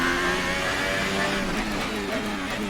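A McLaren Formula 1 car's engine on a qualifying lap at Baku in F1 2018, a loud, sustained high-pitched whine that shifts as it revs, close and continuous with no pauses.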